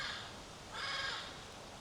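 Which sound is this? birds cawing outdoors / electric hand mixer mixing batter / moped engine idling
birds cawing outdoors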